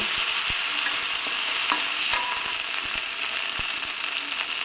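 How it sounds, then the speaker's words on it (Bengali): Onion paste and ginger paste frying in a pan for a Bengali tengra fish curry, a steady close sizzle with scattered small crackles and pops, no voices. "পেঁয়াজ পেস্ট এবং আদা পেস্টগুলোকে একটু একটু ভেজে নেব।"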